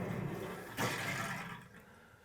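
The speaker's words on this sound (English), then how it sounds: "So now we're going to open up the cold water supply." Water rushes into freshly installed copper-to-PEX shower and bath rough-in plumbing as the cold supply is opened, a sudden hissing surge that settles into a steady, fairly faint flow.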